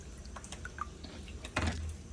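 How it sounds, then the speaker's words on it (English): Water dripping from the drains of an EcoWater softener in a shop, heard as faint scattered drips and small liquid trickles, with one louder splash near the end. "Dripping out of the drains."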